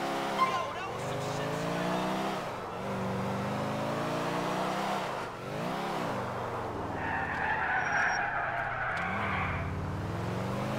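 A car in GTA IV revs and skids through handbrake turns, its engine note rising and falling repeatedly while tire squeal swells near the end, under ongoing game dialogue and voices.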